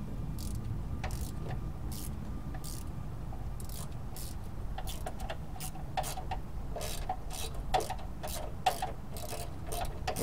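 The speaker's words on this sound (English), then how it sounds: "Snugging down our oil pan gasket bolts." A ratchet on an extension snugging down oil pan gasket bolts on a Chevy S-10 2.8, giving faint, sharp clicks, sparse at first and then quicker, over a low background hum with no talking.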